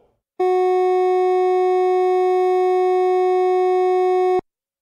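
A steady sine tone at G flat, held evenly for about four seconds and then cut off, with silence on either side.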